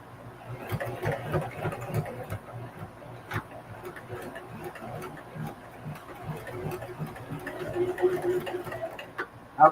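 A sewing machine runs back stitches on a mini duffle bag, a soft steady mechanical whir with faint ticking, close by and continuous.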